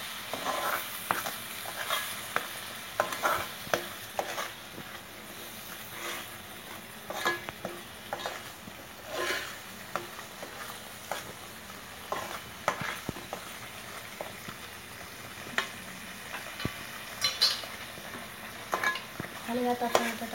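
Masala paste frying in oil is stirred for mutton curry, with repeated scraping strokes and clinks of a spoon against the pan over a soft sizzle, close and intermittent.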